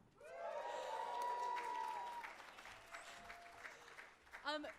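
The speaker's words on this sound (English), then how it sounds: "If you can hear me, clap 3 times." Crowd applause and cheering at a community organizers' gathering, a sustained wash of clapping that swells then fades, with voices calling out and talk over the top near the end.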